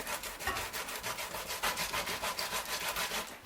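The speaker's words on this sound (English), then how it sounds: "Continue until all your cocoyams are well grated." Cocoyams grated by hand make a rapid, rhythmic scraping rasp, steady back-and-forth strokes about four per second, close and soft, with no voices.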